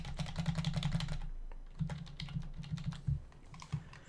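Test credit card details keyed in on a computer keyboard at a checkout page, a close, busy patter of key clicks in quick bursts with brief gaps, no talking.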